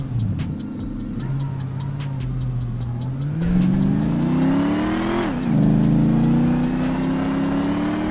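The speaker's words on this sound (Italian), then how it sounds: "La sento proprio che è una bella macchina" Powerful car engine in GTA 5 revving and accelerating through gears, a loud close drone rising in pitch with a shift, then climbing again, no talk over it.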